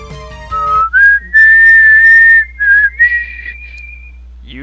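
Melodic whistling from Megaman 7, a few sustained bright phrases with short gaps, loud and close, standing alone over a low steady hum.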